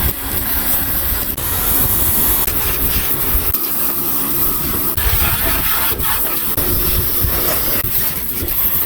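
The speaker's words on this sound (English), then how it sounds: "I'm going to power wash it first, clean the bike" A pressure washer sprays down a Suzuki DR250 motorcycle, giving a steady, loud hiss of water jetting against the bike that runs without a break, with small shifts as the spray moves over different surfaces.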